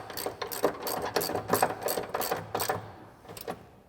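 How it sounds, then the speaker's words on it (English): A 15 mm socket on a 3/8-inch drive ratchet tightens a bolt while a 2021–2023 Bronco side step bar is installed, giving quick bursts of close ratcheting clicks that pause briefly near the end. "Now I'm going to take my 15 millimeter socket on my 3/8 drive ratchet"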